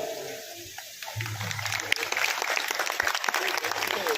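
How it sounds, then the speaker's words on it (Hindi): Applause from an audience at a village programme, a dense patter of clapping building after the first second and continuing steadily, with some voices mixed in. "आप लोग ताली थोड़ी कम बजाते हो क्या?"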